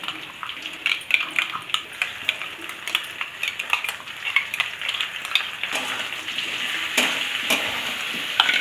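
Ground spice paste goes into frying potatoes for a banana-stem kofta curry, and a busy sizzle carries frequent sharp spatula scrapes and clinks against the pan.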